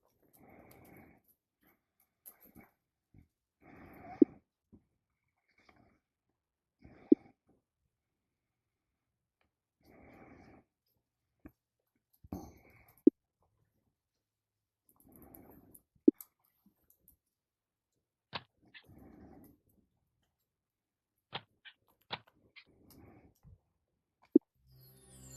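A dog growling in the DetectiveVR video game, recurring low rumbling bursts spaced a few seconds apart, separated by sharp clicks and near silence.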